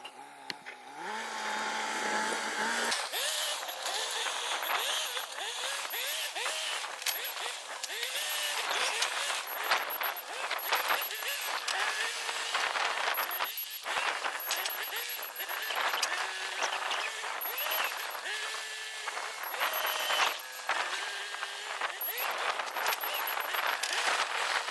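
A backhoe spreads gravel for a concrete foundation pad, its engine droning steadily and loudly throughout with the clatter of machinery, while a person talks over it.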